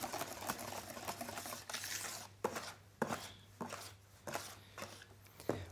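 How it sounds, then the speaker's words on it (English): Prima Nut cream being mixed by hand for a raspberry mousse, giving rapid, repeated scraping and tapping strokes close up with a steady low hum underneath, alone without talk. "I'm mixing."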